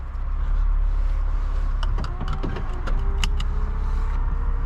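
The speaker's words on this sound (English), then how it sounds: "Just keep holding down the button until it'll close." A 2015 Infiniti Q60 IPL convertible top closing, a steady motor whir under a rising whine, with several clicks and clunks of latches and panels near the end, recorded close inside the car.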